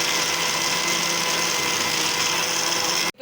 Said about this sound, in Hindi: पानी ऐड करने के बाद आपने ब्लेंडर को अच्छे तरीके से चला